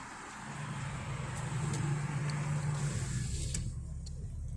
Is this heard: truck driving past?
yes